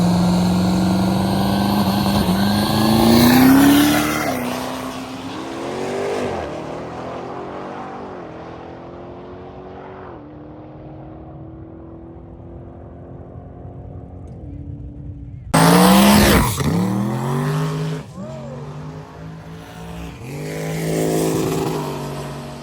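Drag race cars making eighth-mile passes: loud engines rev and scream with rising pitch as they launch, then fade into the distance, followed by another sudden loud burst of engine noise from a second pass.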